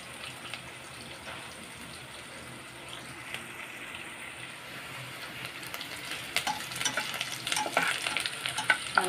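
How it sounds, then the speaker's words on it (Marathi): Chicken and onion frying in a pan while being stirred, giving a steady close sizzle with crackles and spatula scrapes that grow busier toward the end, with no voices. "माझं चिकन शिजायला लागलं."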